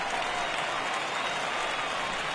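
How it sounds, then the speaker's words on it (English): Stadium crowd in the MLB The Show 16 baseball video game, Reds vs Cubs spring training, swelling into a steady, dense roar of reaction to a high fly ball, sustained and fairly loud with no talk over it. "This crowd oohs and ahs every time this guy hits a fly ball"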